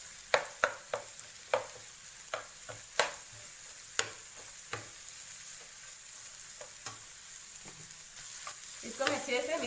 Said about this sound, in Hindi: इसको हमें अच्छे से मिक्स करना है